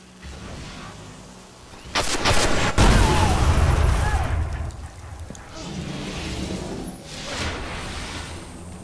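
Gunfire in a Destiny 3v3 skirmish, with bursts of automatic fire and a heavy booming impact, dense and fairly loud, continuing in waves with no talking.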